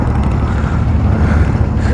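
An old Honda 750 Four motorcycle idles at low revs, a loud, close, rumbling low engine throb with some wind buffeting across the microphone.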